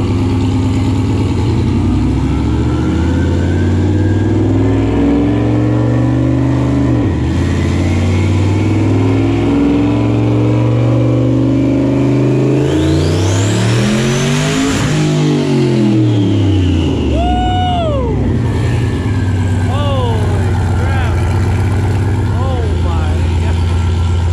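Turbocharged truck engine in a Corvette run on a dyno, loud continuous roar building through a long rising rev to a peak before dropping back, with turbo whine and talk over the engine.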